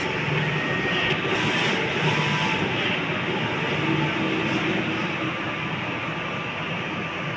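A large 6-foot, four-head sublimation printer runs a nozzle test, giving a continuous close mechanical whir and rumble with a steady hum and faint whine and no clear breaks; no talking.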